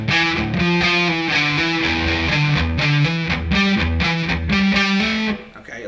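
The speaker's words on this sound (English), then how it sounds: "the X's that are indicated there are percussive palm mutes" Distorted electric guitar plays a chugging riff with sharp percussive palm-muted strums woven into the rhythm, loud and up close, ending abruptly.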